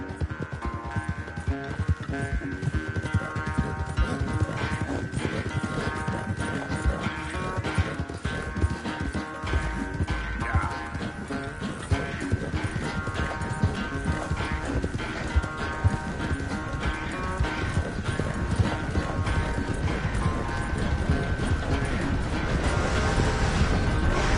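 Horse hooves clip-clop steadily while riding in the video game Red Dead Redemption 2, a continuous rhythmic gait under a busy in-game soundscape of music and ambience.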